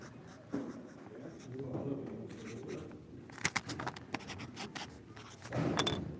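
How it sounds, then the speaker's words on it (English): Handwriting on paper, a soft scratchy scribble running through the clip with a few sharper taps of the pen, close and fairly quiet, while a person talks over it. "I'll write it down for you"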